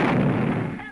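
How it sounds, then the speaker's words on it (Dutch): A single 18th-century cannon fires once to announce a royal couple's arrival at a village in Suriname, a loud, close boom that decays over about a second. "Zo verkondigt dit 18e eeuwse kanon de aankomst van het koninklijk paar."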